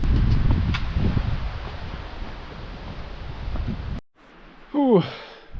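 Strong wind roars across an exposed mountainside near a hut, loud and steady with gusts, then cuts off abruptly as shelter is reached, leaving quiet with a brief breathy exhale.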